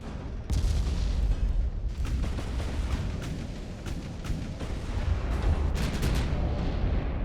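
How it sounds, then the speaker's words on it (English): Ammunition detonation aboard a warship in the naval battle game Ultimate Admiral: Dreadnoughts, a heavy rolling boom with repeated sharp blasts and rumble throughout, loud and sustained with no talk. "Oh, and it's an ammo detonation"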